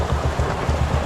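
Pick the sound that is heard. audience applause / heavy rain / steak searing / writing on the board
heavy rain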